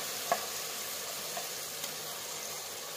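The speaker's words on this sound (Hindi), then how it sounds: "और इसको हम अच्छे से भूनेंगे" Low, steady sizzle of black chickpea (kala chana) dal paste frying in a pan with a masala tempering, with a few faint scrapes of stirring; no voices.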